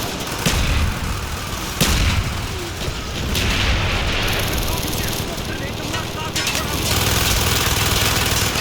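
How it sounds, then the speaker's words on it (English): Mortar fire in Call of Duty Black Ops booms through a loud, continuous wartime din, with sharp blasts standing out over rumbling battle noise. "Firing mortar!"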